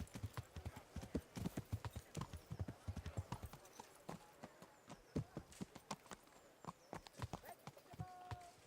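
Horse hooves clip-clop in the Kingdom Come: Deliverance video game, a steady rhythmic run of close hoofbeats with a brief whinny, over a quiet bed of game ambience.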